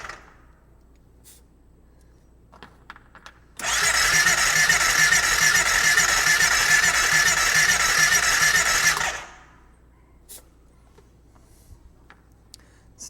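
A side-by-side utility vehicle engine with low compression cranks over during a compression test, a loud steady whirring crank lasting about five seconds with a slight squeal, surrounded by quiet shop background.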